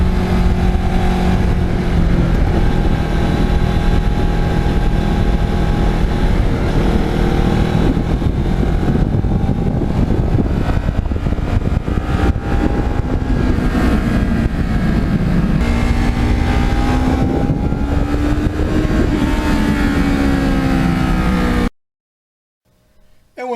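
A Kawasaki Ninja motorcycle riding on a road in autumn, a loud continuous engine drone with rising and falling pitch as it shifts and accelerates, heavy wind rush, cutting to silence at the end.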